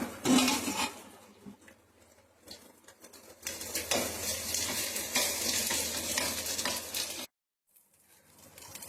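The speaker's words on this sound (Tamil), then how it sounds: "தக்காளி வெங்காயத்தை நல்லா வதங்க எடுத்துடலாம்" Tomato and onion sautéing in hot oil in a pan for home-style sambar give a steady loud sizzle, broken by scraping stirs. The sizzle cuts out briefly near the end, then resumes more faintly.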